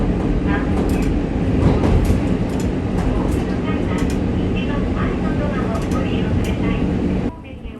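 A train climbs a gradient near Onuma Station in Hokkaido, Japan, rumbling steadily along the rails, a loud continuous roar with faint rhythmic clatter, heard from inside the carriage before dropping off near the end.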